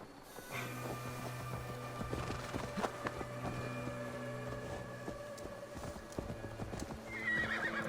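Rhythmic clip-clop of horse hooves galloping steadily across a river in Assassin's Creed Valhalla over a musical background, with a whinny and splashing-like texture, game-style audio.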